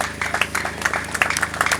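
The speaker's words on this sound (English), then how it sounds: "Can we give that a round of applause?" Audience applause at the annual Bakassouk congress in Darsilame, Gambia: steady, dense clapping from a crowd, moderately loud and continuous throughout with no pauses.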